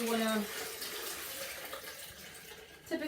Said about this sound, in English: I strain my last big old jug of water kefir